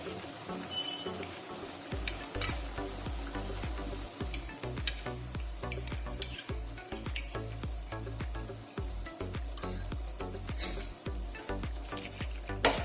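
A mango mixture is stirred into milk heating in a pan, making a soft, steady bubbling sizzle under repeated rhythmic spoon scrapes and occasional light clinks against the pan.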